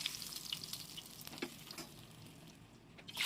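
Pieces of katla fish sizzle in hot oil in a pan, a steady crackling fry with a few soft pops, moderately close and with no speech over it.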